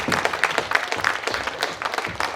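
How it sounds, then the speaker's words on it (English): Clapping and applause from a festival audience for Gabe, called the Heat Wave, at an outdoor arts event in Corby, with close, uneven handclaps over a thinner crowd sound that holds steady through the short burst. "big applause for Gabe here, the Heat Wave as well."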